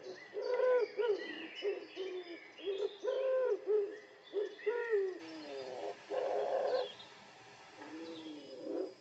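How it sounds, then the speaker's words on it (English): A wood pigeon delivers its drawn-out cooing song, a series of soft, hooting coos in repeating phrases, clear and fairly close against a quiet outdoor background, with other birds faint in the distance. "Wood pigeons have a 5-note, drawn-out cooing song as well as wing clatters."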